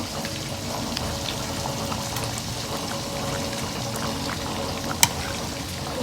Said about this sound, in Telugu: ఈ చిట్టి గారెలోకి చికెన్ కూర వేసుకున్నామండి